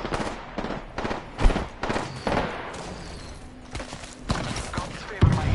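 Gunfire in the video game Apex Legends, a run of sharp close shots in uneven bursts that thin out midway and pick up again near the end, with a voice talking over part of it.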